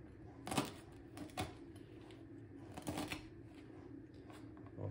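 A Mountain Lion knife slicing through nylon rope, heard as a few short, sharp rasping cuts spaced apart over a faint low background hum.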